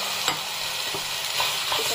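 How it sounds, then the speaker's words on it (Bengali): Chicken pieces sizzle steadily in a hot frying pan as white sauce pasta is cooked, with a constant bright hiss and a few soft clicks of stirring near the microphone. "এরপর দিয়ে আমি চিকেনটা দিয়ে দিচ্ছি"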